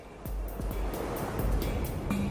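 The Colorado River rushing over rapids in the Grand Canyon, a steady broadband roar of turbulent water with no talk.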